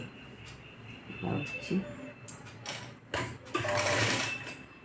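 A sewing machine stitches a canvas neck band for a blouse, whirring in short uneven bursts that rise and stop, with a low background hum and faint voice-like sounds.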